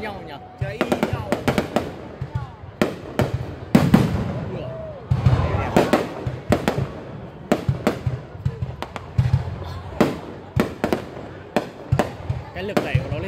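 Fireworks launched at a display in Từ Sơn, Vietnam: a steady series of sharp, loud bangs and crackling bursts, a few seconds apart, with people talking nearby throughout.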